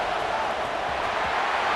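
A football stadium crowd roars in a video game, a dense, continuous swell of cheering and noise that stays loud and steady through the short moment.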